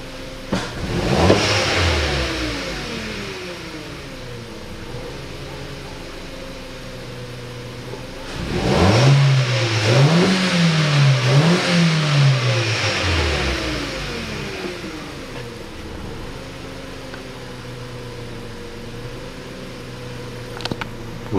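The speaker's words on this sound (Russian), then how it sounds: "После перегазовки почему-то обороты подплавывают, потом стабилизируются." A 2012 Hyundai Solaris engine with a misfire and poor revving idles roughly, then gets a sharp rev about halfway through, its speed wavering up and down before settling back to an uneven idle, close and without talk.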